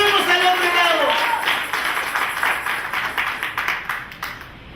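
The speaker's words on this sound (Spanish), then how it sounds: "Si ese aplauso es para el Señor, que se escuche" Church congregation breaks into sustained applause, many hands clapping in a dense, rhythmic patter that swells then gradually thins, following a voice speaking in Spanish at the start.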